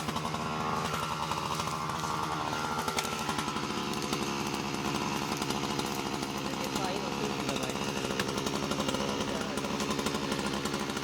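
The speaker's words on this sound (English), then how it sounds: "Using the Husqvarna 395 XPG, the team cuts a V-shaped notch about a quarter of the tree's diameter." A Husqvarna 395 XPG chainsaw cuts a notch into a giant tree during felling, its engine a loud, steady buzzing drone running throughout.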